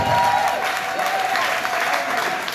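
Church congregation applauding during a French-language Sunday worship service celebrating newlyweds, a dense, steady wash of clapping throughout with a sustained tone and some voices mixed in underneath.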